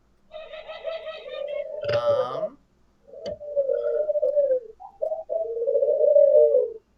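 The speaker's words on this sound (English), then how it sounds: "Those birds, man. I know. They're very loud today." Pigeons or doves cooing loudly outdoors, with repeated low throaty coos in long phrases broken by a brief flutter or squawk, close and dominant throughout.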